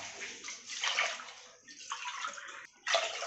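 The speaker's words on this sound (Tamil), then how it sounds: "3 டம்ளர் தண்ணி ஊற்றிருக்கேன்." Water pours into soaked rice and dal for Iyer-style ven pongal, a close, steady splashing stream running in bursts with brief pauses and a louder final gush.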